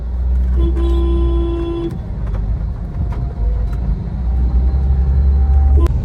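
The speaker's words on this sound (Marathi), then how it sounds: "पण ट्रॅफिक खूप आहे म्हणजे भयानक ट्रॅफिक आहे" Heavy road traffic in Ratnagiri, with a steady low rumble of idling and crawling cars and buses, a brief horn-like tone near the start and scattered engine noise throughout.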